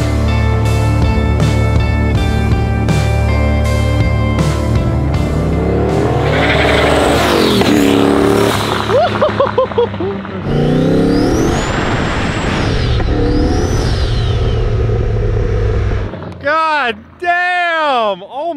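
A loud 800-horsepower turbocharged street-legal go-kart engine revs and accelerates through gear changes with tire noise, voices shouting over it, then the engine drops off near the end.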